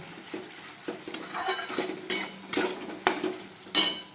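A Bengali prawn and potato curry is sautéed and stirred in a pan, with a soft simmering sizzle under sharp, evenly spaced clanks of a metal spatula against the pan.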